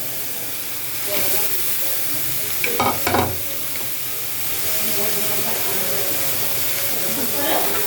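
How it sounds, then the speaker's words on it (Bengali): Spinach tipped into a pan of frying taki fish, giving a steady close sizzle and hiss with a brief louder burst of stirring and spattering partway through. "এখন আমি দেবো এই যে পালং শাক।"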